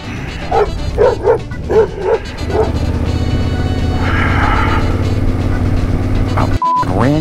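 A pit bull on the roadside yips and barks about six times in quick succession at a passing Yamaha Tenere adventure motorcycle, loud and close over the bike's steady engine drone, which carries on alone after the barking stops.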